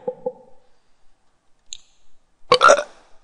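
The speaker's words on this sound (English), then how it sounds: "I just burped" A short throaty burp at the start, with a couple of small clicks and one louder, rougher burst near the end, set against quiet stretches; no speech.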